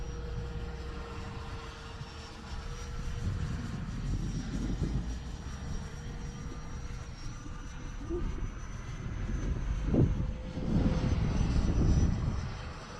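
An X-fly Sirius 80mm RC sport jet runs at three-quarter throttle, a steady whining roar heard from a distance that swells and fades slightly as the model flies by.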